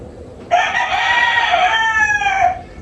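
One loud, close rooster crow, a single drawn-out call lasting a couple of seconds, standing clearly above faint background noise.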